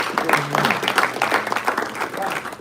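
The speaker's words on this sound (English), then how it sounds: "Give yourselves a round of applause for the way you handled yourselves." Applause from the audience at a postgraduate banquet, a moderate round of clapping with crowd noise that continues evenly throughout, some voices mixed in.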